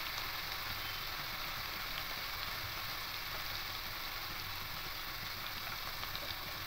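Onion and tomato paste sautéing in a pan for a mustard fish curry, a faint, even, continuous hiss and sizzle with no clear stirring or voices.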